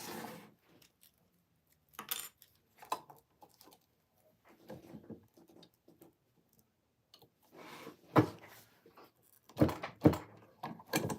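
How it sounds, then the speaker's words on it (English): A rivet set into a sewn wristlet, heard as sparse close clicks, taps and metallic knocks in short bursts separated by near silence, with firmer strikes toward the end. "We'll put a rivet in here."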